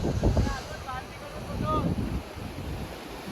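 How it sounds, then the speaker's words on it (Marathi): Sea waves washing against the shore at Sindhudurg sea fort, a continuous rushing surf with gusty wind noise on the microphone, while people's voices can be heard faintly in the background. "समुद्राच्या लाटा"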